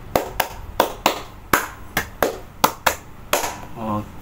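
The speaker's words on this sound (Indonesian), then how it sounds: "Tepuk 1, 2, 3 sampai 5." A group claps in unison during a counting game in a classroom, with sharp synchronized claps coming in uneven bursts of one to several, loud and close, and a brief voice near the end.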